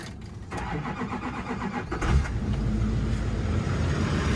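A diesel engine cranks briefly and then catches, settling into a steady, loud, close rumble with no talk.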